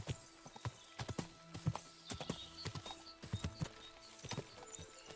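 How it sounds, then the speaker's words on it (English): Horse hooves clip-clopping in the medieval video game Kingdom Come: Deliverance, a quick uneven series of close, crisp hoof strikes on hard ground, quiet overall, with no talk. "That's a horse, black as charcoal."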